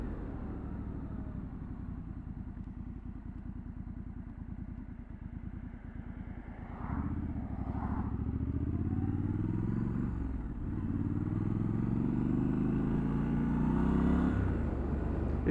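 Triumph Scrambler 1200 XE motorcycle engine droning steadily at road speed, with a low continuous rumble and wind roar that swells slightly as the throttle opens, heard up close from the rider's position.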